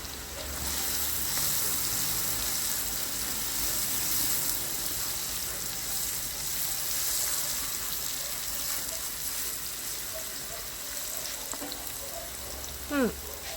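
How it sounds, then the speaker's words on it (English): Onion, garlic, pimento pepper and hot pepper fry in oil in a home kitchen, a steady close sizzle and hiss that runs unbroken for the whole stretch with no talking. "And then you throw in your aromatics, onion, garlic, pimento pepper, hot pepper, and let it fry."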